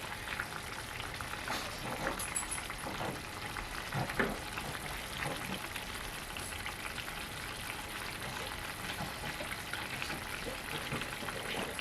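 Sausage stuffing with vegetables simmers and bubbles in a pan after cornstarch is added, with a soft steady sizzle broken by occasional spoon scrapes and stirring clicks, fairly quiet and close.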